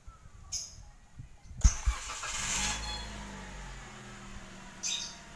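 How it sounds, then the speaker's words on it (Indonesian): A car engine fires up via a push start-stop button: a brief starter churn and a sharp catch, then a steady idle settling in close by, with small clicks around it. "Sekarang kita coba pakai start stop engine."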